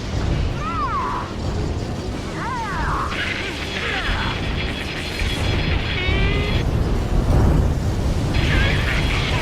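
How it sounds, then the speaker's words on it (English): A rail cannon explodes in the video game Ace Combat 7, a dense, sustained rumbling roar of blasts and crashing debris heard over jet engine noise and radio chatter, with shrill alert tones cutting in repeatedly. "Confirming explosion. The rail cannon's been destroyed."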